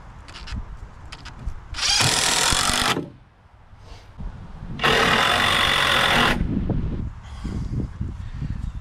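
A power drill drives screws into a 2x3 brace for a chicken coop nest box, two loud sustained bursts of about a second and a half each, with quieter handling clatter before and between them.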